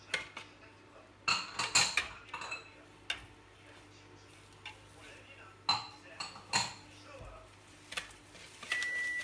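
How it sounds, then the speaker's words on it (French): A whisk stirring sugar into eggs in a bowl during a family chocolate fondant bake, making scattered clinks and taps against the dish, with quiet talk and kitchen noise around it. "on va incorporer le sucre avec le fouet tout doucement dans les œufs"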